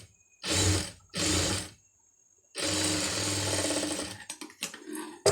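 Sewing machine stitching a side seam on a chudithar, running in two short bursts and then a longer steady whir, followed by brief fabric handling and clicks.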